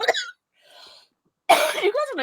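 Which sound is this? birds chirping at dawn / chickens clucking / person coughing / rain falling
person coughing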